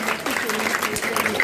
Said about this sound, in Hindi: एक बार अनीता मैडम के लिए जोरदार तालियां